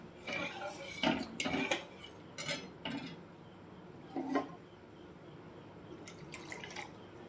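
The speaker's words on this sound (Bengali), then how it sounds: "নাড়িয়ে দিচ্ছি তাদের তলা পেকে না যায় সেই জন্য" Spoon or spatula scraping and clinking against a cooking pot while food is stirred to keep the bottom from burning, a few sharp metallic taps and scrapes close by, with faint background talk.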